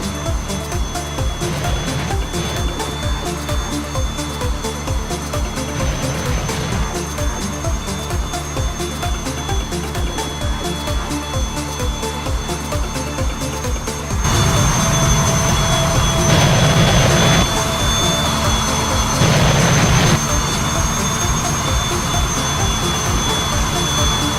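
A Su-27 jet in a flight simulator game roars with a steady, loud engine drone and high whine, swelling louder in the second half.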